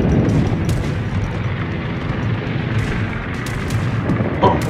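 Heavy naval guns from the cruiser Katori fire in a World of Warships co-op battle, a dense, continuous rumble of booming shots and explosions that stays loud and close throughout, with no talking.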